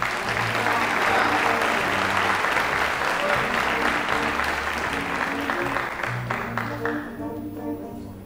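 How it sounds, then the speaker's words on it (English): Applause fills a high school formal assembly hall, a big crowd clapping steadily over low sustained tones, then thinning and fading over the last seconds. "Please give a big round of applause"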